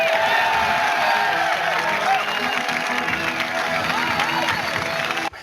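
A studio audience at a TV show pilot claps and cheers in a loud, dense, continuous wash of applause with scattered whoops, cutting off abruptly at the end.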